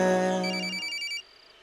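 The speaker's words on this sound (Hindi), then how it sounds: "कब से तुम्हारा फोन बज रहा है" A phone ringtone plays a short electronic melody of bright tones, clear and close, then stops abruptly after about a second.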